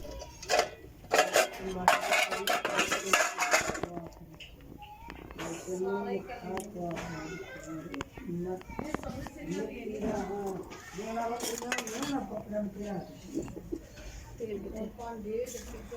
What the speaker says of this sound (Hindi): अब मेरी मामा बर्तन धोने लगी हैं।